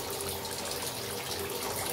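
Raw mustard oil poured into a simmering bhetki fish curry with mustard-poppy seed paste, giving a steady liquid pour and sizzle that runs evenly and fairly loud throughout, with no talking.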